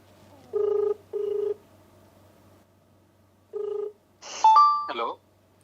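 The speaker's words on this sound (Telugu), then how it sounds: "ఓకే, రింగ్ అవుతోంది." An outgoing telephone call rings back with a short double ringback tone, then a pause and one more ring burst, all fairly quiet. A voice briefly follows.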